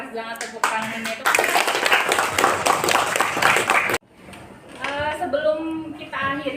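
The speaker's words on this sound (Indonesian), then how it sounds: "Keras banget tepuk tangannya tuh." Loud applause from students in a classroom, a dense burst of clapping lasting a few seconds that cuts off abruptly, with a teacher's talk before and after.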